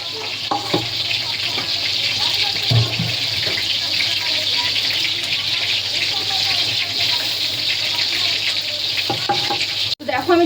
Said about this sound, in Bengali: দেখো আমি চিকেনটা মাখিয়ে নেবো।